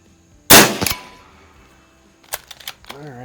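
A Shin Sung Career Ultra 9mm PCP lever-action air rifle fires a single sharp, loud shot while plinking at 50 yards, followed by a few faint metallic clicks and brief mechanical handling sounds.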